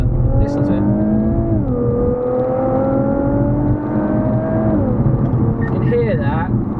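A turbocharged Infiniti Q60S engine revs hard up through the gears, its loud, steady drone climbing in pitch and dropping at each of two shifts, all captured from inside the car.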